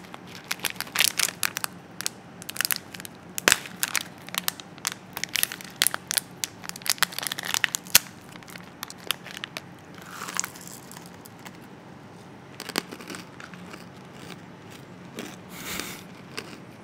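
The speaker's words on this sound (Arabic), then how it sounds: "واختبار الفستق" Pistachio shells crack and get chewed close to a LensGo KD95 podcast microphone, with dense sharp snaps and crunches in the first half, then sparser crunching and chewing.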